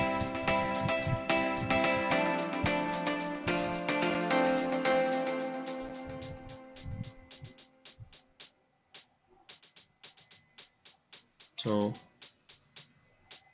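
Hi-hats from FL Studio, automated to pan from left to right, tick in a steady quick pattern over a synth chord that fades out, leaving the crisp hats alone.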